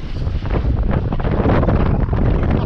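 Wind buffets a microphone aboard a sailboat running in an easterly breeze, a loud continuous roaring rumble with gusty flutter and no voices.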